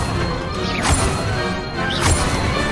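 Two whooshing, crackling bursts of the Incendio fire spell in Hogwarts Legacy, each sweeping upward and ending in a crash-like flare, about a second apart.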